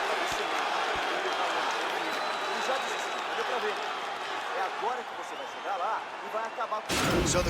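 Crowd in EA Sports UFC 4 cheering and applauding after a round of a Khabib Nurmagomedov vs. Anderson Silva fight, a dense steady roar with scattered whistles and claps, dropping briefly before a loud burst at the end.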